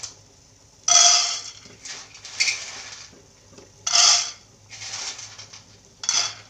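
A metal pan is set down on a stovetop ahead of roasting peanuts for jaggery laddoos, giving three sharp clanks about three seconds apart with lighter scraping and rattling between them, close and fairly loud with no talk.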